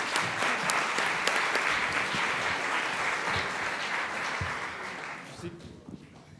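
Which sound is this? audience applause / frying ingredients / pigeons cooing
audience applause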